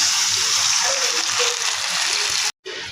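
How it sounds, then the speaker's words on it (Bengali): A cup of water is poured into a pan of fried onions while cooking beef curry, a loud, continuous gushing splash lasting about two and a half seconds before cutting off abruptly. "এবার এতে দিয়ে দেবো আমি 1 কাপ পরিমাণের পানি।"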